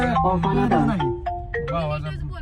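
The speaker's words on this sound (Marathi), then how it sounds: "भावाचा हो फोन आला" A mobile phone rings for an incoming call, playing a loud, close melodic ringtone with a voice-like tune of rising and falling notes.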